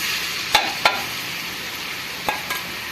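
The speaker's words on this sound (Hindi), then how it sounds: "प्याज हमारा फ्राई हो रहा है।" Chopped onions fry in hot oil in a heated pan, a steady close sizzle broken by a few sharp stirring clicks and scrapes.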